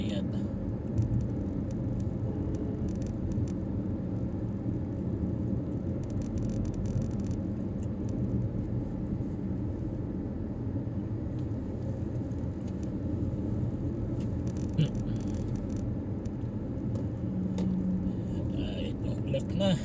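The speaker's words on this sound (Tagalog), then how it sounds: "Sasakyan sa Saudi Riyadh." Steady road traffic in Riyadh, Saudi Arabia, rumbles continuously as a low engine and tire drone, with occasional faint passing sounds while a voice talks over it.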